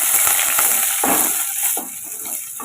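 Dried chillies, curry leaves and onion sautéing in a pan, with a bright steady sizzle and a few soft stirring scrapes and thuds close by, the hiss easing slightly toward the end.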